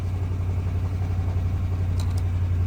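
Salvage pickup truck engine idling right after a jump start, a steady low hum with an even, unbroken drone close by and no voices.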